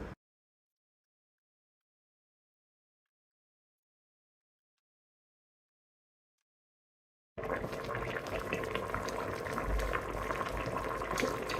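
Meat broth poured into a boiling pot while cooking Moroccan couscous: after a long stretch of silence, a steady, close rush of bubbling, pouring liquid starts and runs unbroken to the end.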